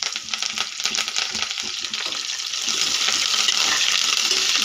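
Cumin, chopped green chillies, dried red chillies and curry leaves frying in hot oil over mustard seeds, a steady close sizzle with crackling pops that swells louder toward the end.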